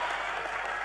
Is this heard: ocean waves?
no